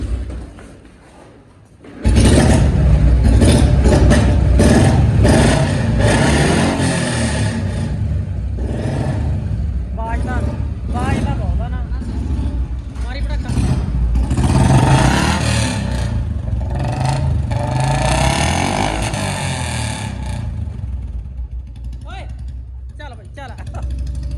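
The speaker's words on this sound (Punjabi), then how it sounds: "ਬੁਲਟ ਆ ਗਿਆ ਜੀ ਬੁਲਟ ਆ ਗਿਆ" A Royal Enfield Bullet motorcycle engine starts up and runs loud and close, with revving surges and a rough mechanical clatter for about twenty seconds before it fades.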